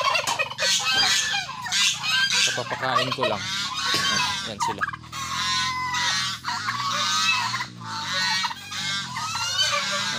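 Chickens and geese call constantly in a backyard poultry setup, with loud overlapping honks and clucks filling the whole stretch, while someone speaks briefly among the birds.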